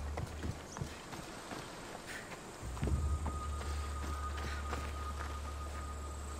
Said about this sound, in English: those are my footsteps I'm hearing